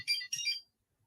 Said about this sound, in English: my phone is going up